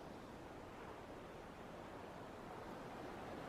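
Ocean waves washing continuously in a soft, even roar, a broad steady surf with no distinct breaks, alone with no voices.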